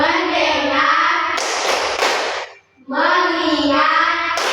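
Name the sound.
group clapping the tepuk fokus clap routine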